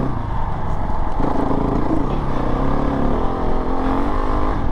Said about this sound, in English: You see how I can open the throttle all the way